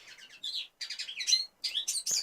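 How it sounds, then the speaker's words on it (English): A single small bird chirps and trills in repeated bright bursts with short gaps, fairly close and clear, with no talking over it. "You hear one bird actually, Davninia."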